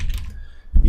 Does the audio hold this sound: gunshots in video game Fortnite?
no